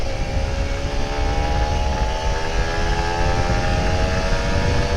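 A Kawasaki Ninja RR 150 two-stroke motorcycle on a morning ride, its engine droning loudly and steadily with rising tones as it accelerates, close up and without talk.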